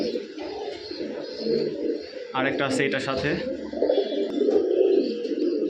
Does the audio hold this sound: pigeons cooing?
yes